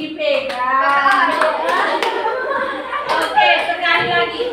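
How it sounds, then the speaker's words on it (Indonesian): A classroom of students clapping their hands in loose, uneven bursts, mixed with a teacher's talking, children's voices and light chuckles throughout. "Oke, tepuk tangan. Tepuk tangan ya, Natalia."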